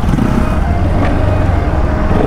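A Bajaj RS 200 motorcycle engine runs steadily and loudly up close as the bike is parked outside a Bajaj parts showroom, a continuous low rumble with no pauses.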